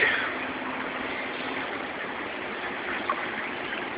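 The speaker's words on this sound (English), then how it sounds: "Put a pump, a pond pump from Lowe's." A pond pump from Lowe's sends water back up into the main tank of a DIY aquaponics setup, making a steady, close rushing and trickling wash that stays even throughout with no voices.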